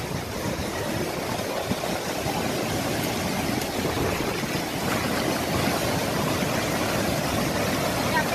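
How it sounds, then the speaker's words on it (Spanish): The Garza river flows during a hurricane, a continuous rushing roar of fast water with a low rumbling undertone, steady and moderately loud without pause. "en vivo el río de la Garza."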